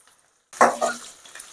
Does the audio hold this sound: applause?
no